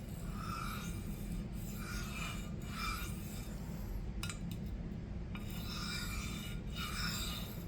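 A knife blade is rubbed on a lapping glass with fine powder, giving soft rhythmic rasping strokes over a steady low hum, quiet and close, with no voices.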